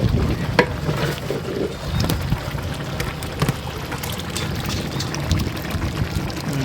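Water poured into a large pot of biryani being cooked in bulk, a continuous splashing pour with a few sharper clatters and splashes, fairly close, with no talk.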